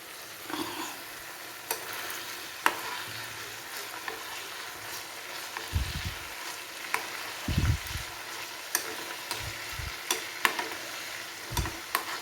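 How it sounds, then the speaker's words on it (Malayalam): Chicken pieces deep frying in oil for a homemade chicken pickle, a steady bubbling sizzle with occasional scraping stirs and clinks, close and alone without talk. "ഒരല്പം ഡീപ്പ് ഫ്രൈ ആണ്. കാരണം അച്ചാറിടാനാണല്ലോ."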